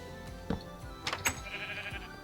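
Sheep bleating in the Minecraft Agrarian Skies modpack: a couple of short, bright bleats close by, with a louder cluster near the middle over a soft game background.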